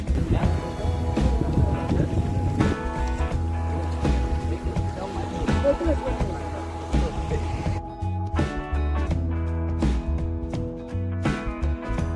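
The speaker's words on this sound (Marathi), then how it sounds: "आमचा बोट चालवतोय" A boat's engine drones steadily on the sea on the way to Janjira fort near Murud, with continuous mechanical hum and rhythmic knocking, and voices are heard over it.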